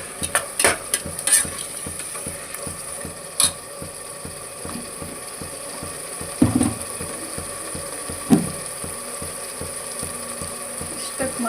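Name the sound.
ingredients being stirred and roasted in pan for methi pulao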